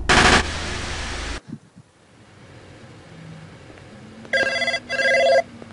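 Telephone ringing in the 1997 video game Blade Runner: two separate bursts of ringing near the end, each loud and alone, after a heavy blast of game noise and a quieter stretch.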